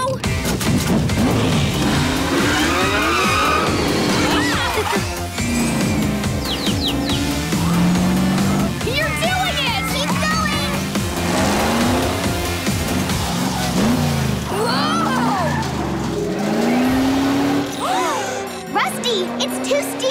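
Cartoon turbo kart engine revving and straining as it struggles up a steep, soft-ground hill, a continuous motor whine under animated character voices and light jingling effects.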